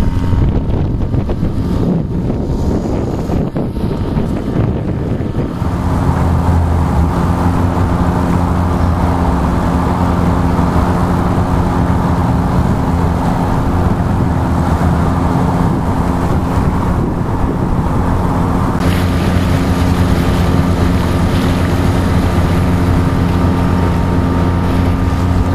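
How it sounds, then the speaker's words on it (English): Churning turbulent water rushes under a sailboat in Hell Gate on New York's East River, with steady close wind buffeting and a low droning motor hum that settles in after the first few seconds and runs on continuously. "We are in Hell Gate now. Crazy turbulence."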